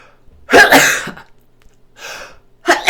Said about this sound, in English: So I had to take you on that sneeze with me.